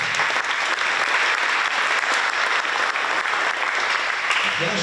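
Dense, continuous applause from an audience at a youth basketball event in Slovenska Bistrica, a loud, even roar of many hands clapping without a break.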